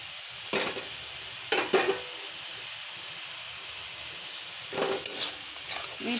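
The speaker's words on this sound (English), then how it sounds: "Now add well boiled and fried" Boiled and fried mushrooms go into a pan and are stirred, giving a few short scraping, sizzling bursts separated by a steady low frying hiss.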